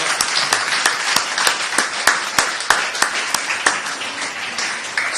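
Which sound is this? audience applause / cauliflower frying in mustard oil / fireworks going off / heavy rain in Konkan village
audience applause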